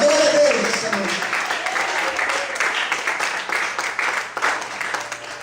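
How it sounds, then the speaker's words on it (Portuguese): A church congregation claps for the Lord during a service, a dense wash of applause that starts loud and tapers slightly, with a voice and faint music mixed underneath. "Mais forte, palmas para o Senhor."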